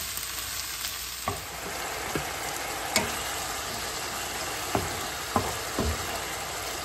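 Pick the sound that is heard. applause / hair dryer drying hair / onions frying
onions frying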